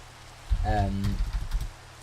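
Rain falling in Minecraft 1.13, a steady soft hiss throughout, with a brief voiced sound rising over it partway through.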